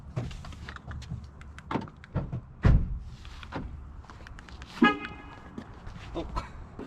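Ford Bronco door clunks shut with a sharp thud among scattered clicks and beeps, followed by a short tooting chirp from the vehicle, heard close up with no talking.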